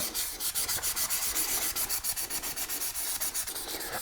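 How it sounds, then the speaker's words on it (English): Fast, even strokes of sandpaper rasp over the painted areas of a bike helmet, close and loud, repeating in a continuous scrubbing rhythm for several seconds. "these are the areas I have to sand"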